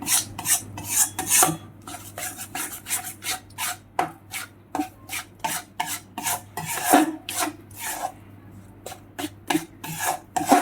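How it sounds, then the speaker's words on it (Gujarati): Jaggery being stirred into a sukhadi mixture in a pan, with repeated scraping and rasping strokes in an uneven rhythm, close and fairly steady throughout. "નીચે ઉતાર્યા પછી એને સતત ગોળ નાખી અને આ રીતે હલાવતું રહેવું"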